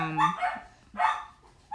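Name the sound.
dogs barking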